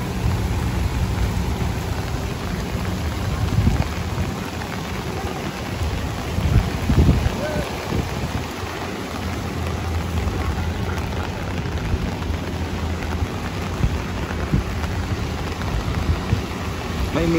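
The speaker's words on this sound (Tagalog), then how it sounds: "Kasing lakas ng ulan dito." Heavy rain pours steadily in Singapore, a continuous dense hiss of downpour on surfaces that stays loud and even throughout, with occasional low rumbles beneath.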